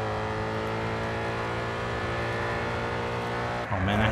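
A race car in the driving game Grid 2 holds a steady, loud engine drone throughout, then shifts abruptly near the end as another car sweeps past close by.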